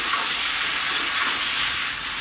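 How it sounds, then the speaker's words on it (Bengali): Salt is stirred into a katla fish curry in a pan, with slit green chillies, drumsticks and pointed gourd, giving a loud, steady frying sizzle and hiss that runs unbroken throughout. "লবণটা দিয়েও একটু নেড়ে দিলাম।"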